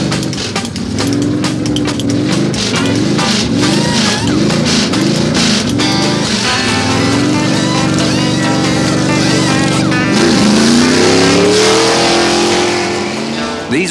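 NASCAR race car engines roar loudly and continuously, revving up and down in repeated rising sweeps as the heavy stock cars power around the track, with a dense layered drone of several cars close by.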